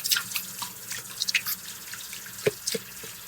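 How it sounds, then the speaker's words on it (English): Water runs and drips into a sink and down the drain, with splashy trickling and scattered droplet hits, close and fairly loud, with no talking. "Water down the drain."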